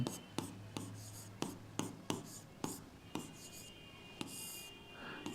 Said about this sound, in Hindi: तो मैं फार्मूला लिख देता हूँ